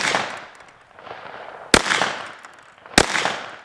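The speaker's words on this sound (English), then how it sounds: "shooting the KelTec PMR-30" Two sharp, loud gunshots from a KelTec PMR-30 pistol fired at small plastic cups outdoors, spaced about a second apart with faint ambient noise between them.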